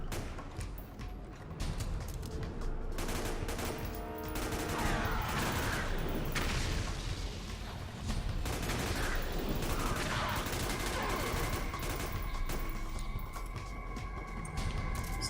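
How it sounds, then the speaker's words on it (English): Dense, continuous gunfire and bursts of combat noise from a video game mission, loud and steady for the whole stretch with little letup and no voices on top. "Shoot the gun, please."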